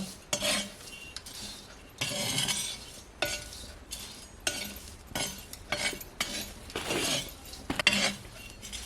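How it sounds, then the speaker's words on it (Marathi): Food dry-roasts in a pan in a rural Konkan village kitchen, with repeated metallic scrapes and clinks of a spoon stirring against the pan in short, irregular bursts over a faint sizzle. "हा चांगला खरपूस भाजून घ्यायचा"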